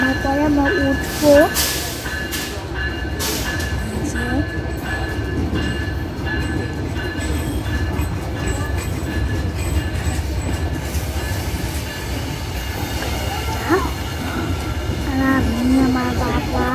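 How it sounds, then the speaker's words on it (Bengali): A train pulls into a station in Bangladesh: a continuous heavy rumble with clattering wheels and occasional brief squeals, loud and close, with voices from people on the platform mixed in underneath. "ট্রেন এখনো থামেনি, থামার পরে আমরা উঠবো।"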